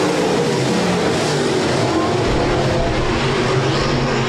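USRA stock cars race at full speed around a speedway after a restart, a loud, continuous roar of engines that stays steady and dense throughout.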